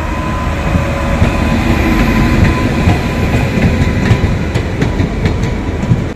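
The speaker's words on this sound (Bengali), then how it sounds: "আজিমগঞ্জ থেকে নসিপুর ব্রিজ হয়ে এই ট্রেনটা এখন বহরমপুরে এলো।" Passenger train from Azimganj via the Nasipur bridge pulling into Berhampore Court railway station, a loud, close rumble of wheels with rhythmic clickety-clack over rail joints and faint metallic squeals.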